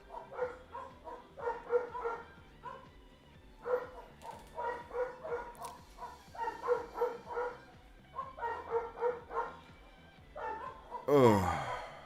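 Wolves bark as they pass by outdoors, giving repeated short bursts of yipping barks in quick clusters separated by brief pauses, moderately close, with a rougher howling cry at the end.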